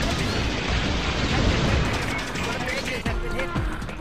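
Rapid game gunfire blasts in Rayman 3: Hoodlum Havoc during a jetbike sequence, dense bursts of shots and crashes layered over a busy action soundtrack, with a few sharper zaps near the end.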